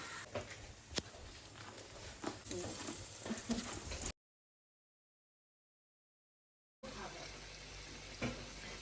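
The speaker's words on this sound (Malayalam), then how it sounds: "ഈ ബ്രെഡ് ക്രംസിൽ പൊതിഞ്ഞിരിക്കുന്ന ഈ കട്ട്ലറ്റിനെ നമ്മൾ ഈ ഓയിലിലോട്ട് ഇടുകയാണ്" A breadcrumb-coated chicken cutlet sizzles in hot oil with a steady crackling hiss and small pops, close and moderately loud, cut by a gap of silence before the frying resumes.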